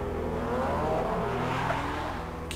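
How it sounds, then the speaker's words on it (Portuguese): Motorcycle engine from the Full Throttle adventure game, a steady loud motor drone with revving tones that carries through the whole stretch as the bike rides off. "A Maureen saiu de moto."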